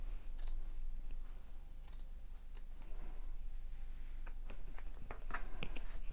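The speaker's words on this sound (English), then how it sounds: "I much prefer trimming foam away from seam allowances" Scissors snip through foam, trimming it away from fabric seam allowances: a run of quiet, close, crisp cuts spaced irregularly over a faint steady background hum, with no talking.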